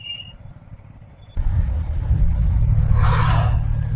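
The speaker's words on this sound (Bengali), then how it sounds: "অনেকদিন পর এতটা বাইক রাইড করছি" A motorcycle rides along a road near Kuntighat bridge. Its engine keeps up a steady low rumble with wind hiss, jumps abruptly louder partway through and stays loud after that.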